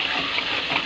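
Cold water pours into flour-and-egg batter for squash and bean sprout okoy fritters, a steady close splashing gush lasting about a second without talk.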